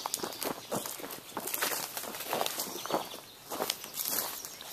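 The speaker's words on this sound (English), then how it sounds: "Walking along the trail, trying not to disturb the cows." Footsteps walking along a dirt hiking trail near grazing cows, a steady stream of crunching steps close to the recorder with no talking.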